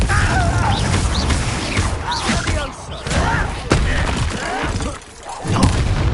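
Spell impacts in a Harry Potter video game, a blasting curse landing with booms, thuds and crackling debris amid dense continuous combat noise, loud throughout with a sharp burst near the end.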